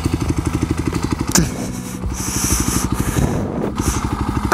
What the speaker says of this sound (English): I should leave my bike running.